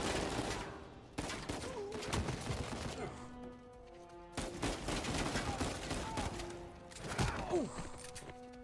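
Rapid gunfire bursts from the video game Uncharted 4, loud and repeated in several volleys with sharp cracks and rattling echoes across the clip.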